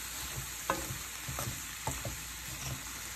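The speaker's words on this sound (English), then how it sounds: "See the deglazing?" Pork chop creole sizzling in a cast iron pan as it is deglazed, a steady hiss broken by several scraping stirs, close and fairly loud, with no voices.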